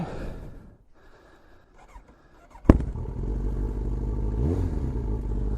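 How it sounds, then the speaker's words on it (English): A single sharp exhaust pop cracks out of quiet from a Kawasaki Ninja ZX9R motorcycle, then the engine idles and revs up steadily, loud and close. "Had a little pop from the exhaust then, but I just then suddenly started revving"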